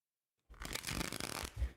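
Tarot cards being shuffled by hand: a steady, close riffling rustle lasting about a second after a silent start, ending with a soft low thump.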